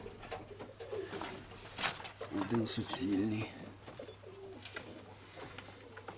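Pigeons in a breeding loft, including a white hen, coo softly in low repeated bursts, with rustling and flapping close by, while someone talks over them throughout.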